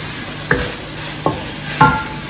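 Cooked rice is added to a hot pan for Cantonese fried rice and stir-fried, a steady sizzle with three distinct scraping stirs of the spatula, close and clear, with no talking.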